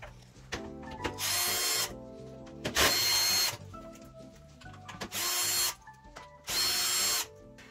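A power screwdriver backs screws out of the rear panel of an AEG tumble dryer, in four loud, close whirring bursts of about a second each, separated by short quiet pauses.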